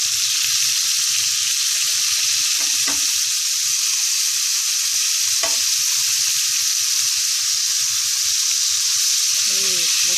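Scallops frying in a hot pan, a steady broadband sizzle running throughout with a few brief louder crackles and faint low clinks of the pan, no voices.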